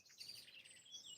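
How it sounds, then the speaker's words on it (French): A common blackbird sings in a quick run of bright, high chirping phrases, steady and fairly clear with no talking. "Hé, le merle,"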